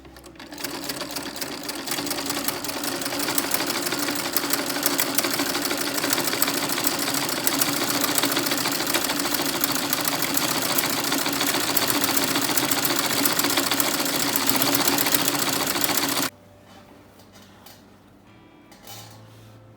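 A sewing machine runs gathering stitches on a skirt, a fast, steady mechanical whirr that stays close and constant for about sixteen seconds, then stops abruptly and leaves a quiet room with no speech.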